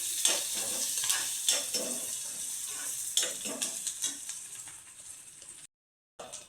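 Onions sautéing in a pan for a beetroot vegetable dish, sizzling steadily while a spoon stirs through them in repeated scrapes, close and clear, with a short silent gap near the end.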